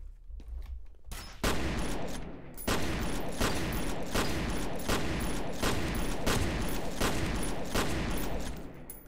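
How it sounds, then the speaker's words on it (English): Repeated loud shotgun blasts from the F.E.A.R. video game, fired in slow motion after a grenade stun, booming one after another at a steady pace of roughly one shot per second over a continuous din. "Now the slow-mo shotgun trick after a grenade stun."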